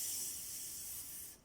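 A voice imitating the sizzling hiss of chicken steak or milanesa frying, voicing the letter S as one continuous, close, breathy hiss that fades slightly at the end.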